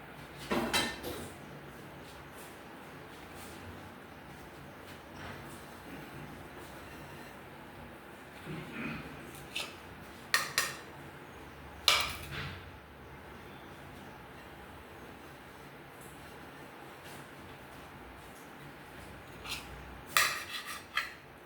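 Utensils scrape and clink against dishes as leftover chutney is moved into another pot, scattered metallic taps and knocks over a quiet kitchen background.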